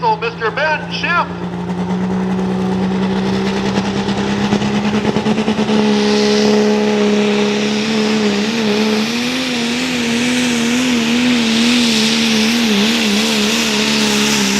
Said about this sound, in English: Wisconsin truck, they call it the Rock Diesel, Mr. Ben Schiff.